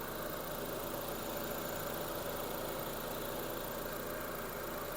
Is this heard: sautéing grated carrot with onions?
no